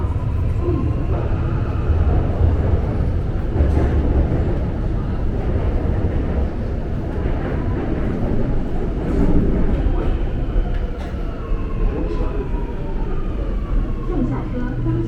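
A Shanghai metro subway train rumbles steadily along the track, a loud continuous roar with low-pitched hum and occasional rattles, while an onboard announcement voice speaks over it.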